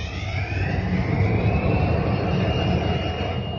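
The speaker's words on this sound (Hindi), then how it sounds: "इंजन को क्रैंक करेंगे।" A WDP4D diesel locomotive engine cranking over, a loud steady low rumble with a rising mechanical whine, heard close and alone.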